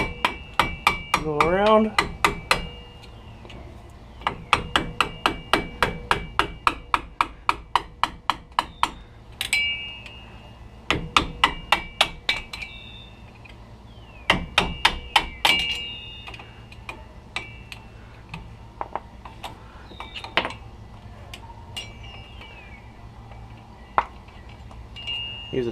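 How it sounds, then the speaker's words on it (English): Small flat-blade screwdriver tapped and wedged against the hub cap of a 1999–2007 GM truck front wheel to pop it off the axle nut: rapid bursts of sharp metallic taps in repeated runs, close and clear, with a brief voice early on. "take a small screwdriver, kind of give it a wedge effect,"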